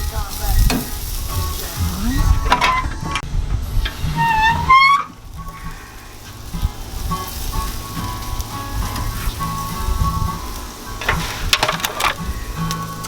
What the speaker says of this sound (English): searing is done and taking them off the grill.